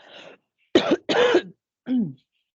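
A woman coughs several times, close and loud, in short harsh bursts separated by brief pauses.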